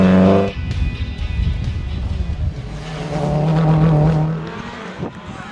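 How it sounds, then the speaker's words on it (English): A rally car races along a stage of the Gomes International Rally in Ndola, Zambia, its engine roaring loud and close, revving and droning steadily for several seconds. "This is Cabras Racing Team Car 52, driven by Chavir Rai and navigated by Tariq"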